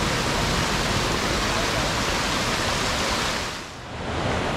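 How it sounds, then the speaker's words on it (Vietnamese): A big waterfall in old-growth forest roars as a steady, dense rush of falling water, loud and continuous, dipping briefly near the end before surging back. "Thác to."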